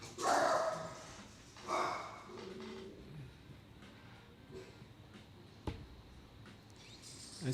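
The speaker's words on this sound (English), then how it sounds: "Hey, don't start barking." A dog indoors gives a couple of short barks near the start, with softer yips and whimpers trailing off into a quiet room afterwards.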